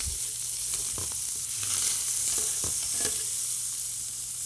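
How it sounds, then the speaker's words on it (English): Ground beef sizzles steadily in a frying pan while a spoon or spatula scrapes and stirs through it with several distinct clacks and scrapes, close and fairly loud. "We're gonna give that a quick stir."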